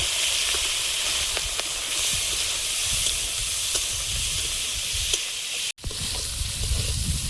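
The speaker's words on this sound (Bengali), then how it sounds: "হলুদ গুঁড়ো, লবণ, আর তেল দিয়ে দেবো কড়াইতে। চিংড়িগুলো ভেজে নেব।" Shrimp frying in oil with turmeric and salt in a kadai gives a loud, steady sizzle and hiss, broken by a brief cut near the end before the frying resumes, with no talk.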